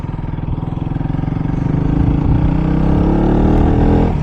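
A KTM RC200 sport motorcycle under way, its single-cylinder engine giving a steady, loud buzzing drone that builds slightly in pitch as it rides, close to the microphone with no talk.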